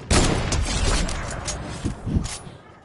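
Gunfire in the Fortnite video game, a dense burst of several shots starting at once and rolling on through the clip, with a couple of later heavy hits near the end.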